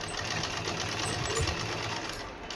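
Sewing machine running steadily while stitching a garment neckline, a continuous close, even mechanical whirr with no pauses and no talk.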